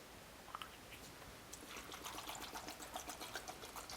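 Water is poured into a pot of cleaned mussels for a clear mussel soup, a faint, close trickling stream that grows busier and more splashy halfway through.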